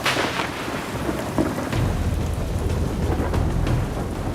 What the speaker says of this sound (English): The break in the storm is quickly coming to an end.